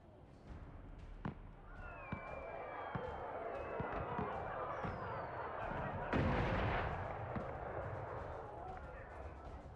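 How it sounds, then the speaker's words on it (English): Fireworks in the video game Dragon Age Inquisition, a string of distant booms and crackles popping at irregular intervals over a steady wash of crowd-like background noise, with one bigger burst partway through. "Kinda cool, I like the fireworks."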